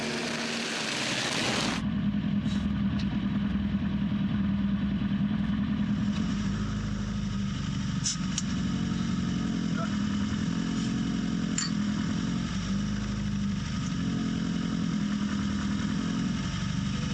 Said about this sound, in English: time to take it for a spin